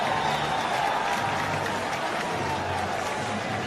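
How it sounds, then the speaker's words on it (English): A cricket crowd of Pakistan and international fans stands and applauds a shot, a loud, sustained patter of clapping mixed with crowd noise and a faint commentator voice underneath. "it's not just fans of Pakistan that are standing and applauding"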